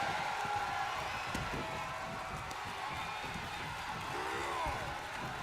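A crowd in the wrestling video game WWE2K22 roars and cheers at a fairly low level, a dense continuous wash of noise with scattered impacts and thuds underneath.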